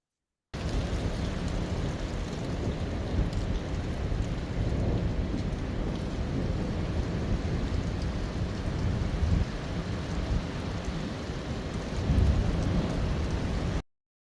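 A thunderstorm recorded on video shortly before a lightning strike: steady heavy rain hisses throughout, with low rolling thunder swelling now and then, and a louder rumble near the end before it cuts off.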